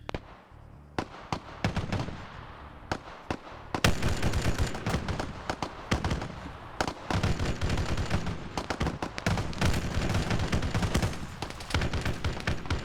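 Gunfire in a military video game, an ODST island-takeover mission: sharp cracks, scattered at first, then dense overlapping bursts and rapid volleys from several weapons, loud and sustained with no voices.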